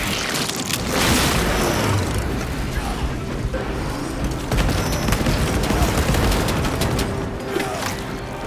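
A frag grenade goes off in the Warhammer 40000: Space Marine 2 video game amid continuous heavy gunfire and booming battle noise, dense and loud throughout with no clear break.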